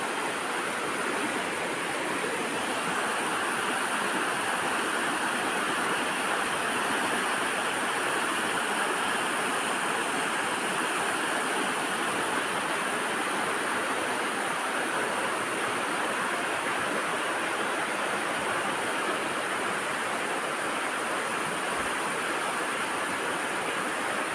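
A cleaned-out river flows in a broad, steady rush of water, a continuous hiss-like roar with no pauses over the whole stretch.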